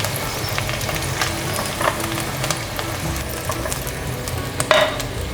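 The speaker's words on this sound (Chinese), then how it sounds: "来看看马铃薯，马铃薯还没变色，再让它慢慢煎" Potato and zucchini slices pan-frying in oil, a continuous close sizzle with scattered crackles and a brief utensil scrape near the end, no talking.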